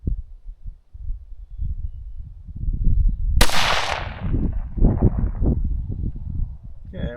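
Wind gusts buffet the microphone outdoors at a rifle range where a Ruger Precision Rifle in 17 HMR is being shot, a steady low rumble broken midway by one sharp, loud shot that trails off into the gusting.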